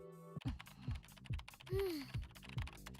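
Keys clatter on a keyboard in an SD Gundam Battle Alliance cutscene, a steady run of close clicks with a soft tonal swoop midway and no talking.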